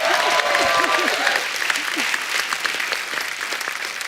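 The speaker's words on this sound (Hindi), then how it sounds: "एक बार जोरदार ताली हो जाए।" Enthusiastic studio audience applause on The Kapil Sharma Show comedy program, dense and steady clapping from a crowd, with a few voices and cheers mixed in at the start.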